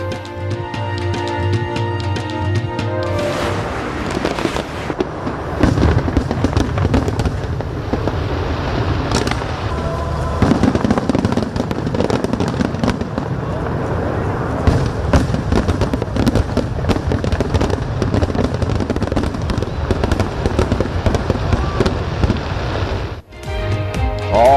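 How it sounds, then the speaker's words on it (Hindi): A fireworks display at the opening of the Grand Egyptian Museum near the pyramids in Egypt crackles and booms continuously, dense bursts and rapid pops layered over a loud rumbling wash for over twenty seconds. "आसमान रंगो नूर में नहा गया। आतिशबाजी का शानदार मुजाहरा किया गया।"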